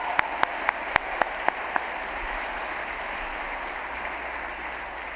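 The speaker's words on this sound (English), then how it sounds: "let's give them a round of applause as well" A commencement audience applauds the event photographers, broad steady clapping filling the hall with a few loud, sharp near claps standing out early, then settling into an even wash.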